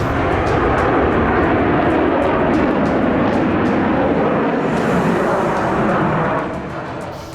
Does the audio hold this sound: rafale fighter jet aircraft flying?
yes